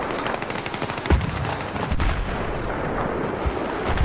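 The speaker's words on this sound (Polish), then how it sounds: "Tam słyszałem jakieś strzały" Rapid automatic gunfire and heavy explosive blasts fill a Battlefield 3 multiplayer match, with dense bursts and booming impacts layered loudly over the whole stretch.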